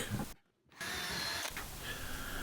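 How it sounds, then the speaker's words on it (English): A power driver sets screws into cross braces on the back of a wooden small-parts storage organiser in a workshop. A brief pause is followed by a steady, fairly quiet whirring drive, with no talking. "And now just screwing and fitting some of the cross braces on the back."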